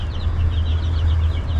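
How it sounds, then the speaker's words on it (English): Chickens clucking softly over a steady low farmyard hum, with faint chirpy calls throughout, as the birds peck at a styrofoam container on a farm. "the chickens are pecking at a styrofoam container"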